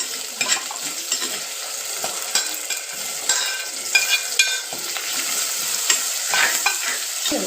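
Curry leaves and spices sautéing in a pan for a ghee-fish (neymeen) curry, a steady sizzle with repeated scraping stirs of a spoon against the pan, close and continuous with no talking.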